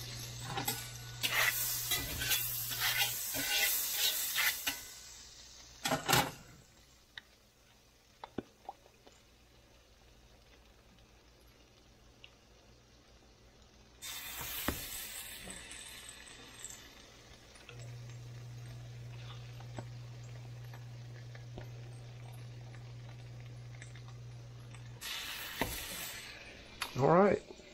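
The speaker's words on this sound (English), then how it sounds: "And now we are sizzling." French toast sizzles in a frying pan, a soft steady fry punctuated by louder bursts as bread is laid in and moved, with brief clicks and handling noises in between.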